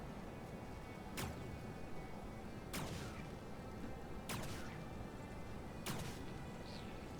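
Ray gun fire in the video game Stranded: Alien Dawn, four sharp bright zaps spaced about a second and a half apart over a steady, dense background din.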